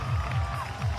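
Roadside crowd at a women-only 10K road race, cheering and roaring in a dense, swelling wash of sound, with a commentator's voice faintly over it.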